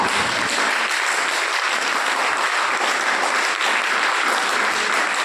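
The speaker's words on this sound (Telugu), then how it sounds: "గట్టిగా చప్పట్లు కొట్టాలి" A large church congregation claps loudly and steadily, dense continuous applause filling the space without pause.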